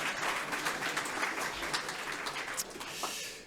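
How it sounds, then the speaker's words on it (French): Applause at the inauguration of the 69th FAFA/VDFG congress in Nantes, a soft, diffuse wash of many hands clapping from a distance that holds steady and then fades. "Merci pour vos applaudissements."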